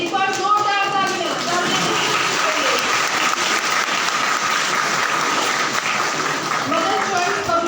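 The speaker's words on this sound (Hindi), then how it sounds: "एक बार जोरदार तालियां।" Many hands clap in sustained applause at an agricultural festival held at a government horticulture venue, a loud continuous crowd patter with a voice over a speaker system talking over it.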